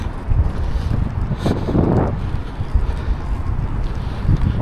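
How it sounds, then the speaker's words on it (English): Strong gusts of wind buffet a microphone on a walk through a city centre, a loud continuous low rumble with brief flurries, no other clear sounds standing out. "I had hoped it would be less breezy today,"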